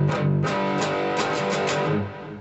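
Distorted electric guitar riff from a song, strummed chords mixing palm-muted chugs with open ringing hits in a quick down-up rhythm, loud and alone.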